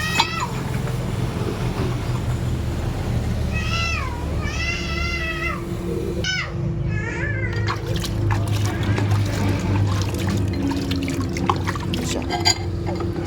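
Water is poured onto a hot forged small axe head with a splashing hiss, while a cat meows several times nearby.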